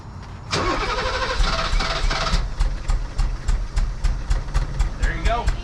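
A BMW 633 CSi shark nose under restoration cranks and catches, then runs rough with an uneven, sputtering idle broken by repeated sharp ticks, close and fairly loud, while voices speak over it.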